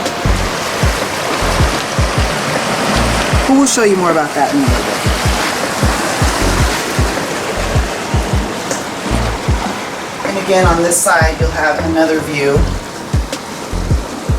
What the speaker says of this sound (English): hearing the waves crash against the boulders